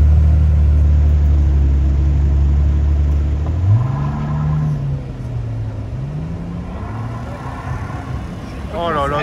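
A Mercedes SL65 Black Series V12 rumbles close by in a parking garage, its deep idle swelling into rising and falling revs, while people talk over the engine noise.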